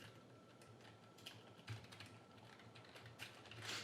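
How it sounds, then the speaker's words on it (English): Computer keyboard typed on quickly while playing Factorio, a faint stream of soft irregular key clicks close by, with no talk. "just typing something real quick."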